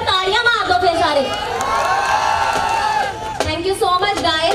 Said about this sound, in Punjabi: ਇੱਕ ਵਾਰ ਤਾੜੀਆਂ ਮਾਰ ਦਿਓ